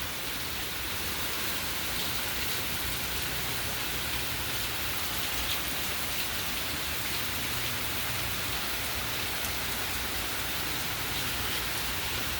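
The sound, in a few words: hurricane rain falling, Hurricane Francine 2024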